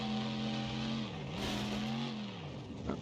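A monster truck engine in the BeamNG.drive driving game revs steadily and loudly, its tone dipping briefly before climbing again, with a faint tire squeal near the end and no one speaking.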